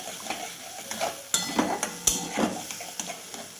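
Chili and turmeric powder are stirred into hot oil in a pan, giving a steady sizzle broken by repeated scraping and clinking strokes of the spoon against the pan.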